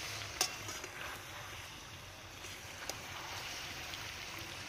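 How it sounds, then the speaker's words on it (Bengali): Spiced chicken curry is sautéed over a village clay stove, with a faint, steady sizzle and a couple of soft, light knocks of a utensil against the pot. "মশলাটা দেওয়ার পরে চিকেনটা আবারও একটু হালকা হাতে কষিয়ে নিচ্ছে।"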